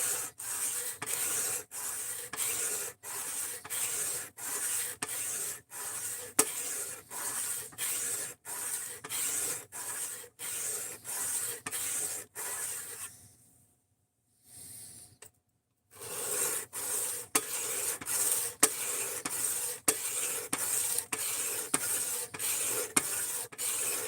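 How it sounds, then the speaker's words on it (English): A Cobalt knife is sharpened with steady, rhythmic rasping strokes, close and evenly spaced, pausing briefly partway before the strokes resume. "I didn't sharpen it after the live stream because reasons. So we're sharpening it now."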